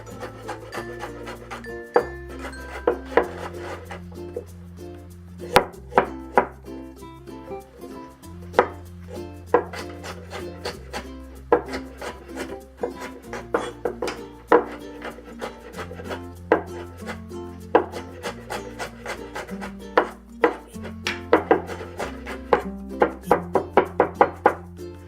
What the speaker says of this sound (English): And we can mince the ginger and garlic together.